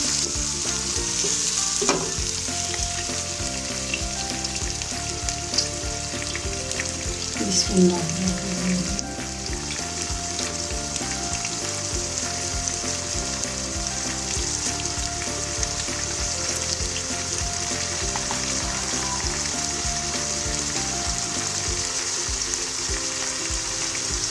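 Green chilli paste and tomatoes with salt sizzle loudly in a pan while being stirred, a continuous dense frying hiss with occasional scraping and clatter, no talk.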